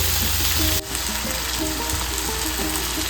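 Chicken frying in a pan with masala and salt, a steady close sizzle and crackle with a brief dip and light stirring scrapes, no talking.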